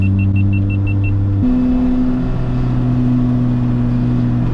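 Steady Nissan Nismo engine hum while driving, a low constant drone with road rumble and a shift in pitch partway through, fairly loud and close.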